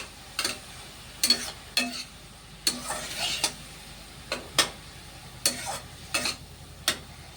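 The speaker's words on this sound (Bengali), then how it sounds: "এই মাশরুমগুলো দিয়ে একটু ভাজা ভাজা করবো" Mushrooms sizzle in a pan while a utensil scrapes and taps in irregular strokes, close by and moderately loud.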